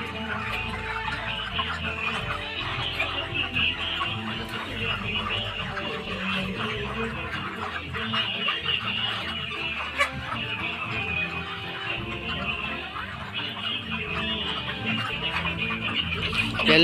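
A flock of grown broiler chickens near harvest size clucks continuously at feeding time, many birds overlapping in a dense, busy chorus from close by.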